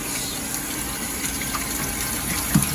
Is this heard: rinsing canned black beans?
yes